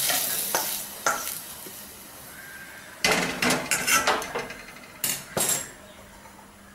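Chopped adamant creeper is stirred and sautéed in sesame oil in a pan for chutney, with faint sizzling under scattered scraping strokes of a spoon against the pan.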